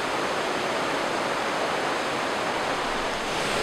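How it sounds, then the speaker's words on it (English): A rushing waterfall of strikingly blue water roars in a dense, constant wash of noise, loud and close, with no voices over it. "Made it here at this beautiful waterfall."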